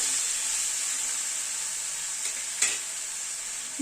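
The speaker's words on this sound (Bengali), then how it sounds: "দিয়ে সব মশলাগুলো দিয়ে নেড়ে দিলাম একবার।" Spices, including Kashmiri red chilli powder and coriander powder, are stirred into a pan of tomato and small mourola fish, giving a steady, even frying sizzle broken by a couple of soft scraping knocks from the spoon.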